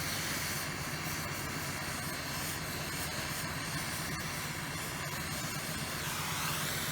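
Continuous loud hiss and roar of a gas torch flame held steady while brazing a pipe side joint, a dense unbroken rush with slight wavering, nearby and alone with no talk.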